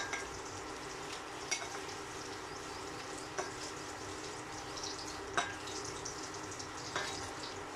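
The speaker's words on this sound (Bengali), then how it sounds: "দেখুন করলাটা আমার ভাজা হয়ে আসছে" Bitter gourd fries in a pan with a steady, quiet sizzle, broken every second or two by a brief scrape of stirring.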